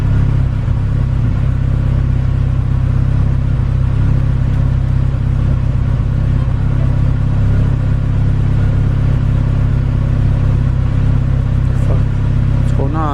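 Turbocharged Honda CR-V engine idling with a steady, dense rumble close by, continuous throughout as people talk over it.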